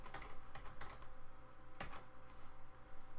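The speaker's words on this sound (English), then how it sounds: "I'm just going to go up here and type it in." Quiet, close typing on a computer keyboard: scattered bursts of light key clicks with short pauses in between, under a soft background hiss.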